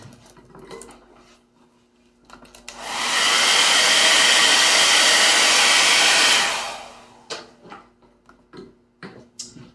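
A hair dryer blows on fresh stencil paint on a DIY phone stand, a loud steady whoosh lasting about four seconds, with light tapping and handling noises before and after.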